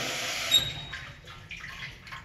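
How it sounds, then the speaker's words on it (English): Running water rinses a bisque-fired pottery piece, a steady broadband splash and trickle that shifts as the piece is turned under the stream, close and moderately loud with no talk. "So once again, running water, outside, inside"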